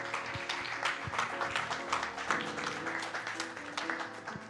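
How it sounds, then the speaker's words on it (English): Steady crowd applause after a Final Fantasy Pixel Remaster speedrun race fills the whole stretch, a dense wash of many hands clapping at once without pause. "let's get one more huge round of applause for that awesome showing by KaguyaNicky and Leggystarscream"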